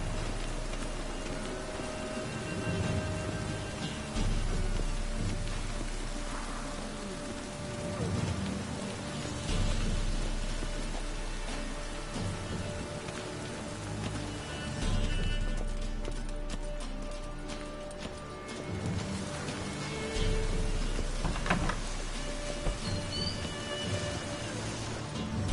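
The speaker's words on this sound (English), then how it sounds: "I like rain. Keeps the roads indoors." Steady rain falls throughout in The Witcher 3: Wild Hunt, a continuous hiss with occasional louder patters, while a horse clip-clops intermittently in the background.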